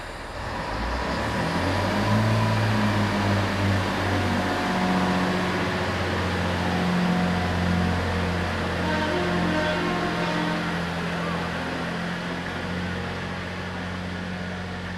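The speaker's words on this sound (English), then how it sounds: "the first ever train to stop at Ashley Down station" A train rumbles into Ashley Down station in Britain, the first to stop there, its engine droning steadily with low hum and background crowd noise throughout.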